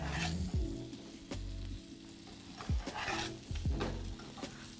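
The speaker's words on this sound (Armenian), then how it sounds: "մի փոքր էլ խառնենք և թողնենք ավելի շատ չափաբաժնով տապակվի կարտոֆիլը" Potatoes frying in a pan while a spatula stirs them, a soft continuous sizzle broken by several scraping stirs and clinks, close and fairly quiet, with no talk.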